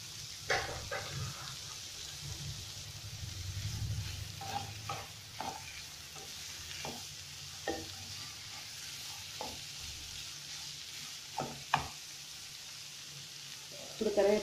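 Tomato added to a pan for kichidi and stir-fried, giving a steady low sizzle with scattered clinks and scrapes of a spoon against the pan, fairly quiet and close.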